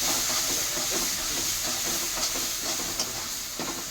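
Spices with chili powder sizzle and are stirred while frying in a pan, a steady loud hiss with soft scraping strokes breaking through at irregular intervals.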